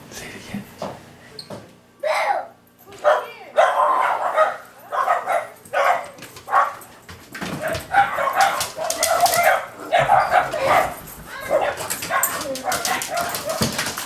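Cavalier King Charles Spaniels bark and yip in loud, close bursts that get busier toward the end, with some whimpering, while a person speaks over them now and then.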